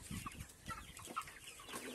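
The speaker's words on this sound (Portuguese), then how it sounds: "Vocês vão ver alimentar as galinhas." Chickens cluck softly on a small farm, with several short, scattered clucks and calls that are faint and nearby, with no talk.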